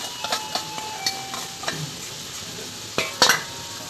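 Ground garlic and ginger paste sautés in a pot for chicken biryani, a faint low sizzle broken by sporadic sharp ladle clicks and scrapes against the vessel.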